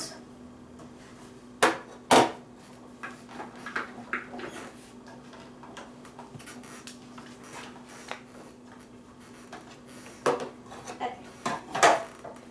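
A knife chops shallots on a cutting board in a few sharp, irregular knocks spread across a quiet kitchen with a faint steady hum.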